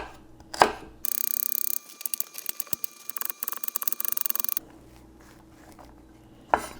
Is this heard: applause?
no